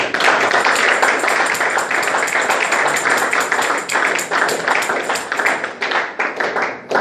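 A church congregation clapping in unison to acclaim the king: loud, steady rhythmic handclaps from a crowd, continuing throughout and thinning slightly near the end.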